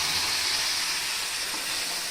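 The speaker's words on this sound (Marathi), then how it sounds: "ही फोडणी चांगली फ्राय झाली" Hot tempering (phodni) with curry leaves and spices crackles in a kadhai while cooking sour chukka greens, producing a continuous, bright, hissing sizzle close by.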